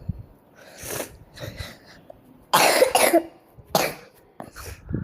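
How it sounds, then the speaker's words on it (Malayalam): Several loud, close coughs come in separate bursts, with one long harsh fit in the middle and quieter breathy sounds and pauses between them. "ഞാൻ ചുമയൊക്കെ ഉണ്ട്."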